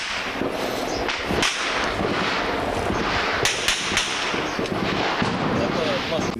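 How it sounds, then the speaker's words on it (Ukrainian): A heavy machine gun fires at an industrial zone in a war setting, with sharp cracks and thuds rising over a noisy background while someone talks. "Оце працює крупнокаліберний кулемет."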